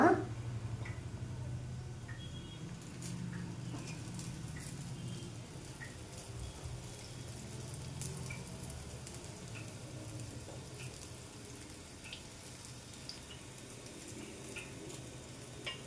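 Gunta ponganalu, Telugu dumplings cooked in a pitted pan, fry quietly in oil and are turned, giving a soft, steady sizzle with faint clicks and a low hum beneath.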